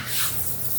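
A hose nozzle sprays water in a steady, close hiss while a dog is rinsed during a bath, a brief continuous rushing spray with no talking.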